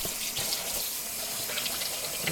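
Tap water runs and splashes steadily in a sink as freshly picked cucumbers are rinsed for pickles, a close, continuous hiss with small irregular spatters.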